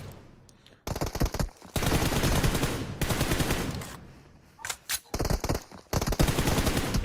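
Loud automatic machine gun fire in a video game comes in several long, rapid bursts, separated by short pauses.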